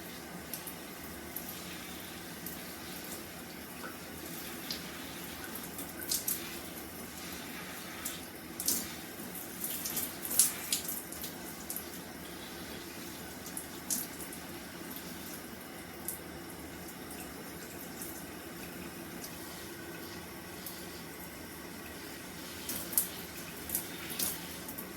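Hair being rinsed out on wash day under a faint, steady stream of running water, with occasional soft splashes and no voices.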